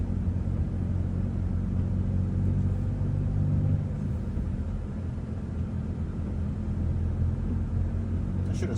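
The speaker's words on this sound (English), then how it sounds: "I'm going really slow to let this car or truck go ahead of me." Car driving slowly along a road on a cloudy day, a steady low engine and tire rumble heard from inside throughout, easing slightly partway through.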